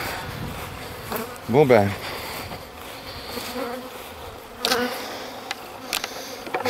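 Agitated honeybees swarm around an open hive, a dense steady buzz close to the ear with individual bees whining past, while someone speaks briefly.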